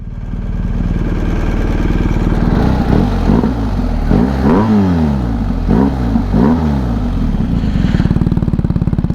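BMW R 1250 GS motorcycle with an adjustable-valve exhaust, idling loudly up close, then blipped through several sharp revs that rise and fall in quick succession before settling back to a steady idle.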